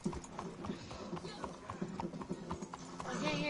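Rhythmic clip-clop of horse hooves trotting steadily, close by, in Red Dead Redemption 2, with people talking over it throughout.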